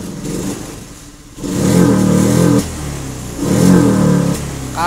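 A Honda Beat PGM-FI fuel-injected scooter with a stumbling throttle fault revs in two bursts, the mid-pitched engine rising loud and uneven with a rough, sputtering edge, then dropping back to a lumpy idle between throttle blips.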